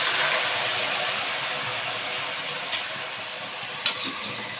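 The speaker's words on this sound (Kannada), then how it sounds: "ಎಲ್ಲ ಮಿಕ್ಸ್ ಮಾಡ್ಕೊಂಡ್ಬಿಟ್ಟು ಸ್ವಲ್ಪ ಫ್ರೈ ಆಗಲಿ" Cooked lentils mixed into brinjal masala for sambar fry in a pan, a steady loud sizzle throughout with two sharp clicks of a spoon against the pan near the end.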